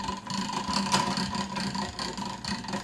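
A hand-cranked pasta machine cuts fresh pasta dough into noodles with a steady, close whirring clatter of rollers and gears that runs unbroken throughout, with no voices.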